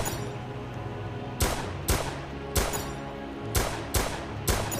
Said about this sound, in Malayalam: ഓക്കെ ഞാൻ വെടിച്ച് കൊല്ലുന്നുണ്ട്.